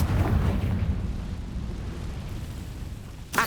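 A Confringo fire spell from Hogwarts Legacy explodes with a loud, deep boom that rolls into a low rumbling tail over a few seconds, followed by a brief sharp burst at the end.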